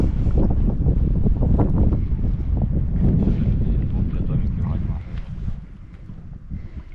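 Strong, steady wind buffeting the microphone beside a lake in light drizzle, a low rumbling roar that eases near the end, with faint voices underneath.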